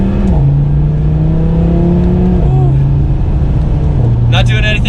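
Audi TT RS engine and exhaust pulling hard in second gear, a steady loud drone whose pitch holds and then steps down as the car powers out of a turn, with a brief high rattle near the end.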